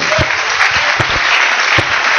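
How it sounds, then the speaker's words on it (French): A church congregation claps together during a service, a dense, loud, continuous burst of applause with a few sharper claps standing out. "Applaudissons fort le Seigneur."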